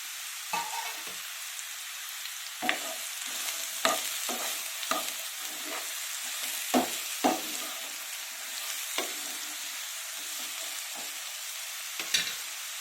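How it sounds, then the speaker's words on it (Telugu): Pieces of ridge gourd fry in a little oil for a ridge gourd tomato chutney, making a soft, continuous sizzle. Scattered close scrapes and taps of stirring in the pan punctuate it, and there is no talk. "ఇప్పుడు కొద్దిగా ఆయిల్ వేసుకున్నాము. ఇప్పుడు ఇలా కట్ చేసి పెట్టుకున్న బీరకాయ ముక్కలు వేసేసుకున్నాము."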